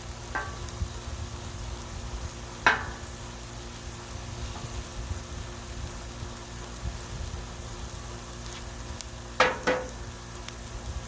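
Bacon and vegetables sizzle on a Blackstone griddle, a soft continuous frying crackle with a few sharp scraping clicks of a spatula standing out.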